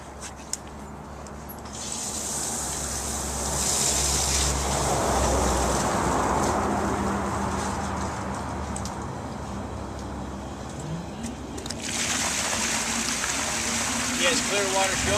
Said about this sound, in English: Now he's going to flush the hydrant until he has clear water showing.